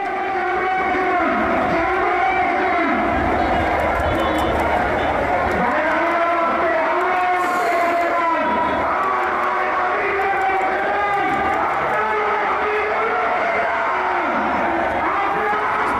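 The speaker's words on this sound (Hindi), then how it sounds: "ये भीड़ देखिए, ये नारे सुनिए" A large crowd at a protest in Bangladesh shouting slogans: a loud, dense roar of many voices with rhythmic chanting swells, continuous throughout.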